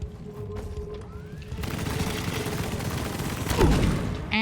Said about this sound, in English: I'm shooting at the bugs.